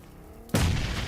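A sudden deep boom hits midway through a PUBG Mobile esports match, a loud explosion that bursts in and then rumbles on with a sustained roar.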